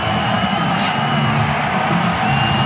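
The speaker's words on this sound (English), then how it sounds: "That's the cheer you hear." Stadium crowd at an Oklahoma at Oklahoma State college football game roaring and cheering as a quarterback takes the field, a dense continuous wash of cheers with whoops rising.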